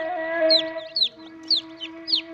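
A chick chirps in a short series of high, soft, rising peeps, about four calls roughly half a second apart, close by over a steady low hum.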